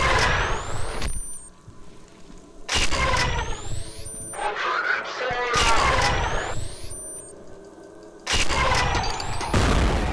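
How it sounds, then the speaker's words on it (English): A grenade blast and combat noise in the shooter game F.E.A.R., with several loud, abrupt explosive bursts separated by quieter ringing gaps, while a voice talks over parts of it. "I think it's one of those quick instant explosion grenades because I literally just heard it"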